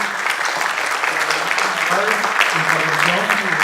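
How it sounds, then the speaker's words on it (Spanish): Sustained applause from a crowd, dense clapping throughout with voices speaking and cheering over it. "quiero que agradezcamos con un fuerte aplauso a Lourdes Bello, a Norma Rangel,"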